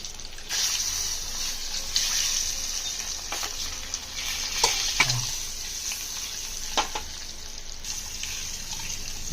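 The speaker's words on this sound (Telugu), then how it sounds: "బాగా ఆయిల్లో డీప్ ఫ్రై అయ్యేలా చేసుకోవాలి" Eggs deep-frying in oil for a tomato-onion egg curry make a steady, moderate hiss, dotted with small pops and crackles, and nobody speaks.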